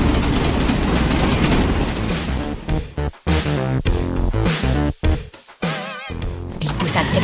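A train rumbles past with a rhythmic clatter of wheels, loud and close, over a dense mechanical din with brief dropouts.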